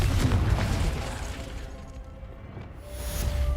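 A Confringo blasting spell goes off in Hogwarts Legacy: a loud, deep boom with a broad crackling burst at the start, rumbling through the clip and swelling again near the end.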